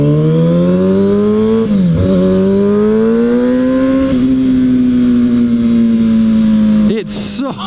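A 2009 Kawasaki Ninja ZX-6R motorcycle with a short exhaust revs loud and close, its engine note climbing and holding in a high sustained whine, briefly dipping, then rising again before cutting off near the end.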